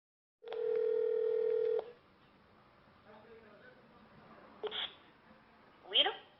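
Steady telephone dial tone on a phone line lasting over a second, followed by faint line noise and a couple of short electronic blips, with a person's voice briefly audible nearby.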